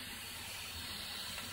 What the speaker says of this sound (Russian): Давление повысилось, и избытки пара выходят.